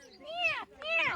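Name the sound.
person imitating a cat meowing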